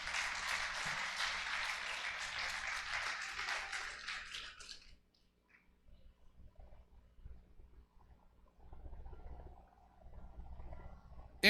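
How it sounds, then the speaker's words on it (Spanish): A church congregation applauds loudly for about five seconds, a dense burst of clapping that stops abruptly and gives way to a low, quiet room murmur. "¿Cuántos aplauden la palabra del Señor?"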